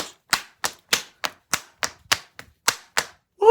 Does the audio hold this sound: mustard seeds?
no